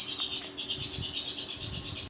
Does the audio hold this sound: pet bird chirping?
yes